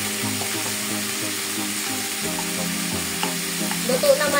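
Pinakbet vegetables with shrimp paste fry in a hot pan, giving a steady, close sizzle with soft stirring scrapes and a few brief clinks and crackles.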